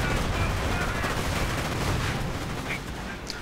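Sturmgewehr assault rifles rake bursts of gunfire in a World War II strategy game, with dense, continuous rattling shots and booming battle noise filling the whole short stretch.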